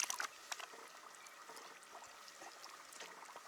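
A gold ore sample soaks in liquid and gives off rising bubbles, a faint, continuous fizzing and fine crackle with a few brighter pops at the start.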